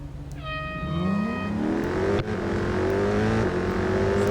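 A Ford Shelby GT500 in Real Racing 3 revs hard, its engine note climbing steadily with a sharp gear shift midway, loud and continuous, with a brief high whine early on.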